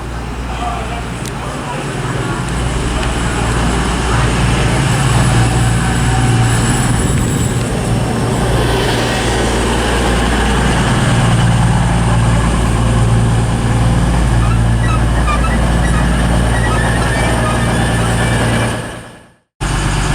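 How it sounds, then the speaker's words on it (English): East Midlands Trains Class 222 diesel unit 222 012 pulls into Chesterfield station, a loud steady engine drone and rumble filling the air, with talk over it, ending abruptly. "arriving now is the 1612 East Midlands Train service from Sheffield to Corby"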